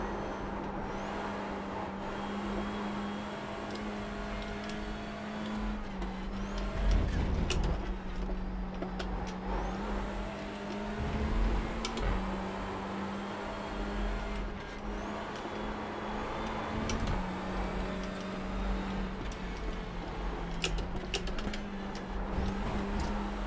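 Touring car engines in iRacing drone steadily near the driver, with a sustained hum broken by several brief surges and dips as gears change and cars close in, holding through the whole lap.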